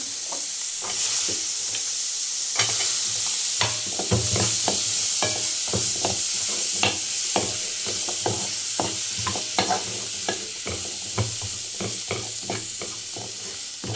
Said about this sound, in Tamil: அதிலே கொஞ்சம் நேரம் ஃப்ரை பண்ணுங்கள் அந்த மசாலாவிலே